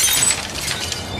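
Glass coffee table shattering on impact after being thrown off a 20-story building, a bright, crashing burst of breaking glass that tails off into scattered tinkling debris, heard alone.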